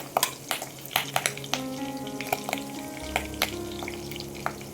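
Garlic and curry leaves fry in hot oil, a close, lively sizzle broken by clicking spatula strokes and stirring scrapes in a pan for a Konkan raw jackfruit dish.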